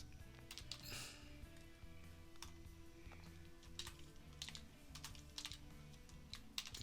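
Steady, quiet typing on a computer keyboard while entering a tag name in industrial automation software, with continuous soft key clicks and a few louder taps over several seconds and no speech.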